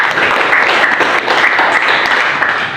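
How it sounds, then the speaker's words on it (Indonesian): Loud, dense applause from a class for a student group's presentation, continuous clapping at close range without pause. "tepuk tangan untuk kelompok 1"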